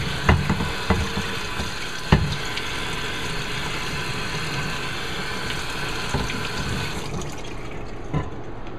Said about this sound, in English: Rinse this thing off.